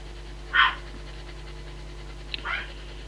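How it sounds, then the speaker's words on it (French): A dog gives two short excited yelps or whines, about two seconds apart, moderately close over a steady low hum, as it grows agitated at someone arriving home. "le chien va s'affoler"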